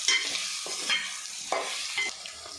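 Raw prawns fried in oil are stirred in a pan for a tomato curry as ginger paste is mixed in, making uneven scraping strokes over a close, steady sizzle.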